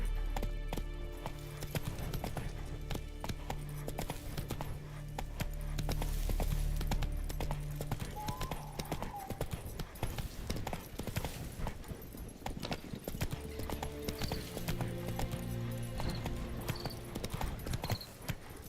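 Roach the horse gallops in The Witcher 3, a steady rapid clip-clop of hooves running close by throughout, over low ambient game rumble with an occasional faint whinny.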